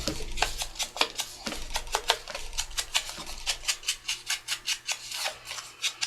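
Torn paper edge for a mixed-media spring journal cover worked over with an ink blending tool, a close series of quick scratchy brushing strokes that settle into an even rhythmic swish, with no speech.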